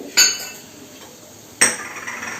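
Coriander seeds roasting in a pan for a coriander chutney, heard as two sharp metallic clinks of a utensil against the pan, with quiet pauses and a faint rustle between them.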